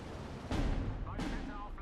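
Bomber strike in the WWII strategy game Steel Division 2, with two heavy blasts about 0.7 seconds apart rumbling low and loud, followed by a lighter crack near the end.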